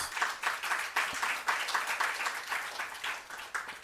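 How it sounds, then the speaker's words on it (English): An audience at a Ghanaian ceremony marking the appointment of a new Auditor General claps in sustained applause that swells in uneven waves, many hands close and fairly loud, with no speech over it. "You have my permission to applaud whenever you wish."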